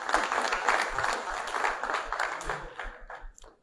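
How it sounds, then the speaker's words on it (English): Applause from students at a university orientation session, fairly faint and somewhat muffled, a dense patter of clapping that gradually thins and fades out toward the end. "A hand of applause to yourselves."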